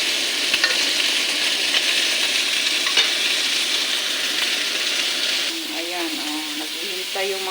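Meat sizzles loudly and continuously in a hot pan for a pinakbit with broccoli, with stirring scrapes and a voice speaking in the last couple of seconds.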